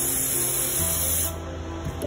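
Mold release sprayed from a can onto a piece of cardboard for a fish mount fin repair, a steady close hiss that runs for about a second and a half, then drops to a quieter tail.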